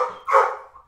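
A dog barks once close and loud, a single sharp bark with a brief softer tail, standing out clearly on its own.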